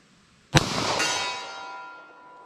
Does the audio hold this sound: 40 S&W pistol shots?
yes